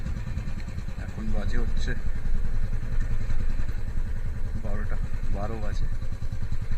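A motorcycle engine drones steadily on a road ride from Kolkata, a low continuous rumble under someone talking close to the microphone.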